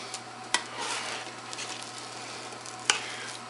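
A serving spoon scoops a bacon cheeseburger casserole mixture, giving soft wet stirring and scraping over a low steady hum, with two light clinks of metal against the dish.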